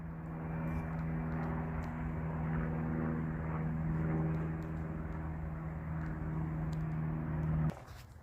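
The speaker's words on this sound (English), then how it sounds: "There goes another aerial plane." A small plane flies overhead at an airfield hangar, a steady droning engine hum held at a constant pitch for several seconds before cutting off near the end, moderately loud with no talk.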